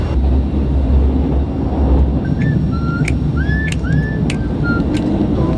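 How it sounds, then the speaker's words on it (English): Steady rumbling inside a moving train in Italy, travelling through snowy mountains, with a constant low roar and a few faint high squeals from the wheels or rails. "We are on the train."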